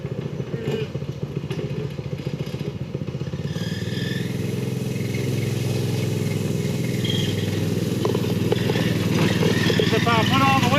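A small go-kart engine runs steadily, rattling and buzzing close by, with people talking over it throughout.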